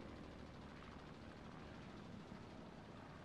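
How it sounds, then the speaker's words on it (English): An aircraft in a tank-combat video game drones steadily overhead as a faint, even, propeller-like hum with no other sounds. "that's a plane"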